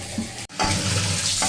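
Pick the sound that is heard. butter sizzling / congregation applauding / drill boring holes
butter sizzling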